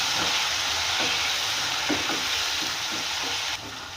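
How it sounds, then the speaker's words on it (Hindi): Tomatoes added to golden-brown onions sizzle steadily in a pan for aloo bharta, a loud, continuous frying hiss with faint stirring taps, dropping slightly in level near the end. "अब इस कंडीशन पे मैं इसमें ये टमाटर डाल दूँगी और इन्हें मैं अच्छी तरह भूनूँगी।"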